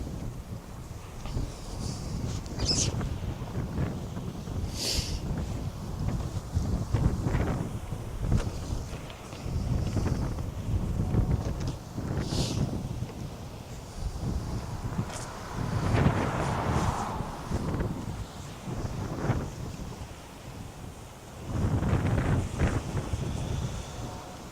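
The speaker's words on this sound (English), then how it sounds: "As you can hear with the audio, very windy." Strong gusts at the Galveston, Texas cruise port buffet the microphone as ships depart, producing loud, uneven rumbling surges that rise and fall throughout, with a few faint clatters and distant sounds underneath.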